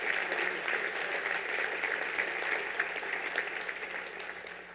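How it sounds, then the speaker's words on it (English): Steady applause from a crowd at a college football award ceremony, dense and even, holding at a constant level before easing slightly toward the end. "Please give a round of applause for Carolyn Basil."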